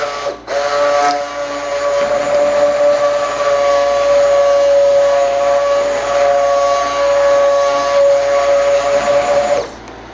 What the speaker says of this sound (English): I'm just going to hit it with the stick blender for a little bit to get that all mixed in.